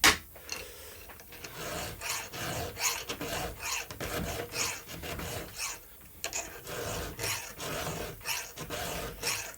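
A file sharpens the teeth of a chainsaw chain on a Husqvarna 365 X-Torque, giving repeated close rasping strokes in a steady back-and-forth rhythm with no talking.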